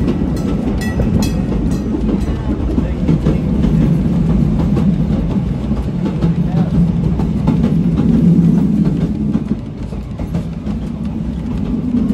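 A steam train rumbles steadily along the rails at Pleasant Point, New Zealand, with a constant low roar and faint clattering, close and fairly loud throughout.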